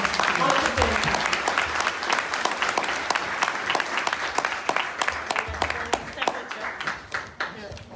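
A book launch audience applauds an author, Ireland's oldest lady, with dense clapping throughout that thins into scattered claps near the end; a few voices rise within the crowd.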